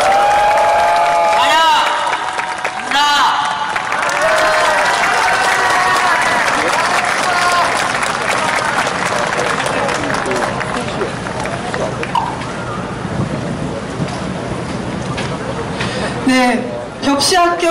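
Crowd applause at an outdoor memorial rally marking 500 days since the Sewol ferry disaster, sustained loud clapping and cheering from a large audience, with a host speaking over it through a PA.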